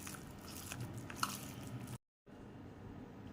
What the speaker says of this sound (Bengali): এই কুচনো পেঁয়াজটাকেও ডালের সাথে ভালো করে মাখবো।